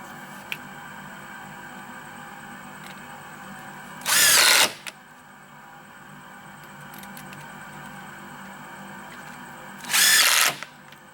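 A power drill driving Torx head screws into a newly built crawl space door, two loud, close bursts of whirring lasting under a second each, separated by several seconds of quiet room tone.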